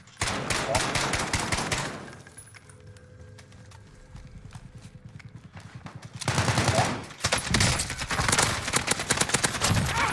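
Rapid bursts of automatic gunfire from a Call of Duty Warzone match, loud dense volleys at the start and again near the end, with a quieter stretch between and a player's voice briefly heard.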